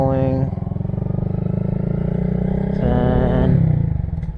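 A 2022 Honda Grom motorcycle engine revs and holds a buzzing, steady drone under throttle, rising briefly in pitch near the end, with a voice talking over it close by.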